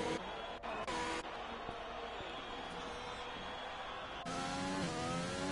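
A Formula 1 car in the F1 2020 game screams through high revs at the Bahrain circuit, with sharp gear shifts and a rising pitch toward the end, under a commentator's voice.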